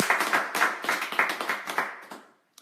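An audience claps at a church or ministry gathering, a dense burst of steady applause with a few louder swells that fades out after about two seconds, ending with one last isolated clap.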